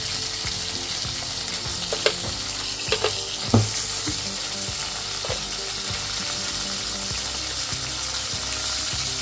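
A chutney mixture with a small tomato roasting in a pan crackles and sizzles steadily, with a rhythmic scraping of the spatula against the pan and a few sharp clinks, alone without talking.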